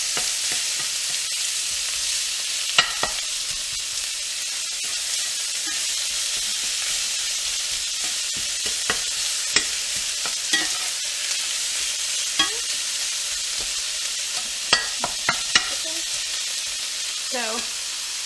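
Meat for chili frying in oil in a pan, a steady broadband sizzle running throughout with scattered clicks and scrapes of stirring, fairly close and alone without talk.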